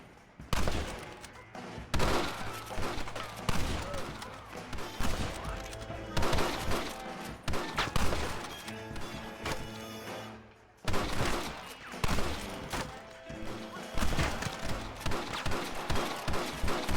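Shootout gunfire in the video game Red Dead Redemption, with dense, sustained volleys of overlapping rifle and pistol shots, loud and close, broken by a brief lull before firing resumes heavily.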